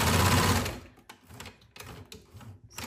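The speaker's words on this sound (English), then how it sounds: "at the edge of the corner, needles up, presser foot up, pivot, and sew." A sewing machine stitches a seam on a caftan dress, opening with a loud, fast whirring run, then quieter stop-and-start bursts of stitching up close, with no talking.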